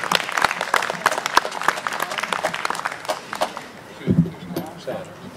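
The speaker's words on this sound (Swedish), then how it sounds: "Ge dem en varm applåd." Audience at an outdoor folk fiddlers' gathering in Torsås clapping to welcome two nyckelharpa players, sharp individual claps from a modest crowd that thin out and fade, with some murmuring near the end.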